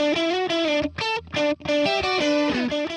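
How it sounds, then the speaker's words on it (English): Short distorted harmony electric guitar phrases ring out in quick bursts, each a few chopped notes with brief gaps, played alone and up close. "I ended up recording these short harmony guitars just to go along with the very ends of each phrase,"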